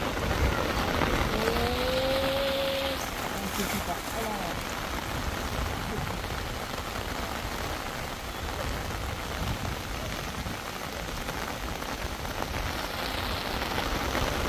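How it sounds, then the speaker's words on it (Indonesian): Heavy rain pours steadily over a construction site on a slope with ground piles, a dense continuous hiss that holds the whole time, with a brief tonal squeal early on and faint voices under it. "Hujan semakin deras."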